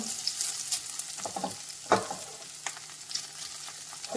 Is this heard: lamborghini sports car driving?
no